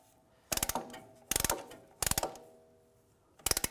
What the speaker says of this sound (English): We're going to compress that piston. Just use a compressing tool.